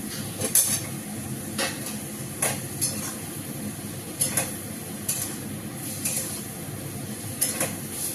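Koftas go into a pan of frying spice masala, with a steady low sizzle broken by sharp metallic clinks and taps of a utensil against the pan at irregular intervals, close and moderately quiet.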